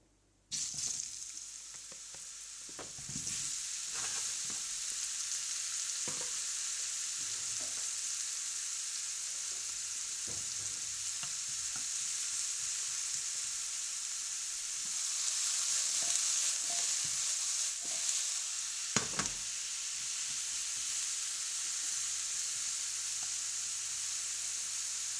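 Mushrooms frying in olive oil in a pan for a creamy mushroom pasta: a steady, close sizzle with occasional stirring scrapes and clatters, growing louder and busier partway through, with no talk.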